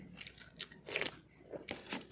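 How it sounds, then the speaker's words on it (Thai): Close, crisp bites and crunchy chewing of Mama instant noodles repeat in an irregular rhythm, with no talking over the eating. "นี่คือไม่ได้หุงข้าวแล้วเลยต้องมานั่งกินมาม่า"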